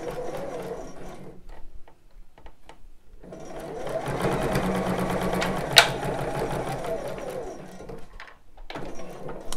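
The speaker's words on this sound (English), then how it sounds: "Sorry, I sewed over the pin." A sewing machine stitching bra fabric runs in a continuous mechanical whirr for several seconds, with a sharp snap midway as the needle strikes a pin, then slows to short intermittent bursts and stops.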